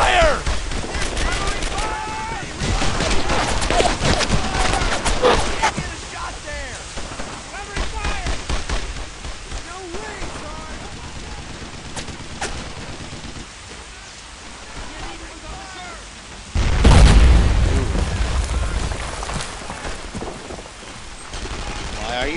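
Sustained battlefield gunfire in the World War II shooter Brothers in Arms: Earned in Blood, dense rifle and machine-gun volleys crackling throughout with a heavier burst near the end, under shouted voices.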